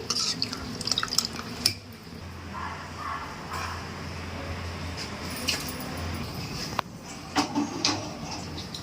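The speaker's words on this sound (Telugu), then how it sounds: "ఈ విధంగా చింతపండు పులుపు వేసుకోవాలండి" Tamarind juice poured into a pot of simmering pappu charu, a Telugu lentil and tamarind stew, giving a steady liquid rush with a few light clinks of utensils near the start and end.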